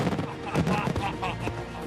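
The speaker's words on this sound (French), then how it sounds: "Au milieu d'un tas de petites explosions." An Italian bomba da tiro firework shell bursts into a rapid cluster of small crackling explosions, a dense run of sharp pops at moderate distance over a rumbling background.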